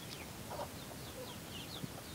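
Chickens pecking at rotten tomatoes thrown to them, clucking softly in scattered calls over a steady background hiss.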